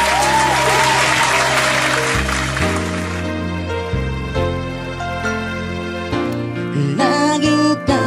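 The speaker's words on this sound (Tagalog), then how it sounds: "Kaya mga idol, palakpak na po, wala magkamay dyan." Audience clapping at a talent show in Tisa Labangon: a dense burst of applause for the first few seconds, then fading beneath loud music with steady sung or played tones that carry through to the end.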